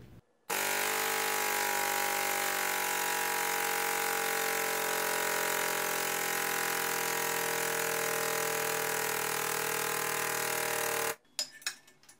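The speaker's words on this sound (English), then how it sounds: "Let my compressor fill up, and then we'll try to bend it" An air compressor fills its tank in a workshop during a tube bender build, running as a loud, steady mechanical drone for about ten seconds, then cutting off, with no talking.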